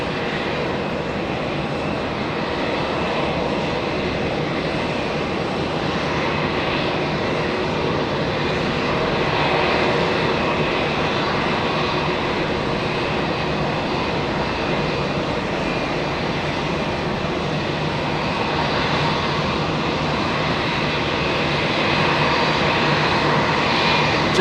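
A Neos Boeing 787-9 Dreamliner jet departs on runway 13 right at New York's JFK airport at blue hour, its engines making a steady, loud broadband roar that holds for the whole stretch and swells slightly toward the end, with no talk.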